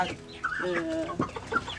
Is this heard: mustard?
no